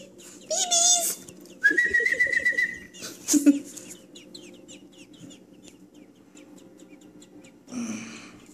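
Baby robins in a nest chirp for food with thin high calls, mixed with bursts of clucking, whistle-like tones and a few louder chirps, close by, with a voice heard briefly.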